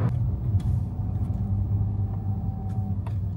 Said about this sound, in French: Voilà notre voiture, petite Fiat 500.